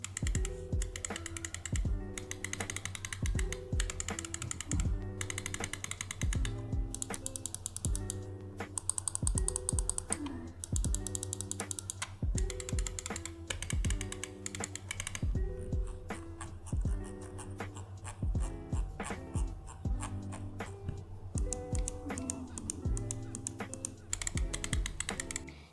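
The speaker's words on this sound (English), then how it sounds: "I attached a clip here so you can see what the mouse sounds like" Roccat Kone Pro Air wireless gaming mouse buttons clicking steadily, a long run of crisp, close, evenly repeated clicks with occasional faster bursts and a low background hum throughout.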